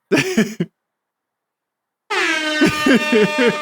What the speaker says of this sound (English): I want to hit the wrap air horn button again